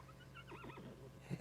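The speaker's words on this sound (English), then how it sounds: "The horse says something." Horse neighing in a TV show, a short, quavering whinny rising and falling over about a second, fairly faint, followed by a couple of soft thumps like hooves.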